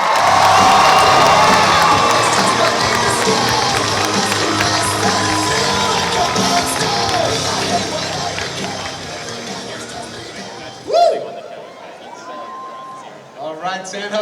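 A crowd at a fan fest panel in San Jose cheers, whoops and applauds loudly and continuously for an actor's entrance, the noise slowly easing before a few brief voices and scattered shouts near the end.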